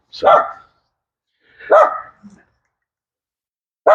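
Dogs bark sharply, three separate loud barks spaced over a few seconds with silence between them, the second followed by a short low grunt.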